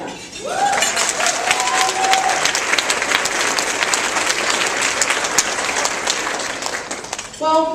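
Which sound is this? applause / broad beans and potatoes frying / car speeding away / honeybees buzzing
applause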